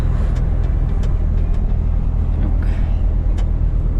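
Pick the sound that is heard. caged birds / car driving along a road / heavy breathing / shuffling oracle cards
car driving along a road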